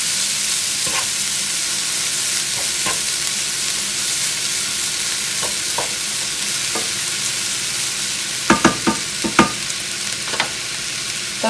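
Meat and rice sizzle and fry steadily in a pan for jambalaya, with intermittent scraping clicks from stirring that grow louder near the end; no talking.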